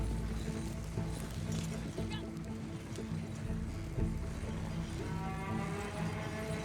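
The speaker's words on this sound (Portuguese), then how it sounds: "Tem o meu cavalo me seguindo aqui." Horse hooves clopping steadily as a horse follows the player in the video game Red Dead Online, a continuous busy rhythm mixed with other game sounds and faint snorts.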